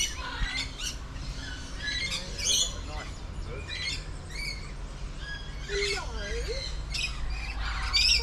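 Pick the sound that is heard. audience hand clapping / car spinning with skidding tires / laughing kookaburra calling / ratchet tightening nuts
laughing kookaburra calling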